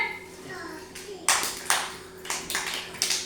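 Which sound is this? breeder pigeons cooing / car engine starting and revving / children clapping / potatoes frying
children clapping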